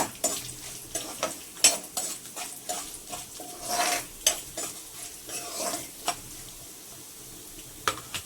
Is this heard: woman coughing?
no